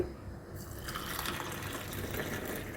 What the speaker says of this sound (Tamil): பாட்டிக்கு டீ ஊற்றிக்கிறேன்